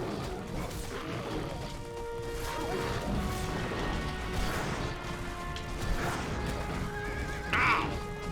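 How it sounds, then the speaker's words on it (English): Horse neighs and whinnies mixed with clopping hooves and crashing impacts in the video game Castlevania: Lords of Shadow, moderately loud action sounds with a sharp whinny near the end and game music underneath. "I'm falling off my horse!"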